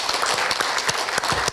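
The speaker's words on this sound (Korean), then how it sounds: "큰 박수로 환영해 주시기 바랍니다." An audience at a Seoul campus town plan announcement and cooperation agreement ceremony at Korea University claps in brief, steady applause to welcome the Seoul vice mayor, a dense patter of many hands, fairly close and without talk.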